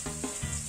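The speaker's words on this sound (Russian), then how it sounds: "лучок наш отправлю обжариваться на сковородочку." Onion frying in vegetable oil in a pan gives a steady, even sizzle throughout, with a few soft scrapes and shifts mixed in.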